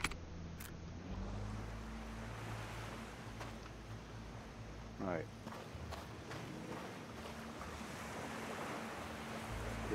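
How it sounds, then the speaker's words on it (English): Steady sea waves and ocean ambience wash continuously in a survival video game set on a castaway island, with soft wind and a brief short word spoken over the top. "The sea sounds... I'm just listening to the sounds a minute."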